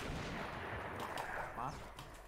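Rapid Fortnite gunfire crackles through a busy mix, sharp bursts popping around the middle of the clip with faint voices underneath.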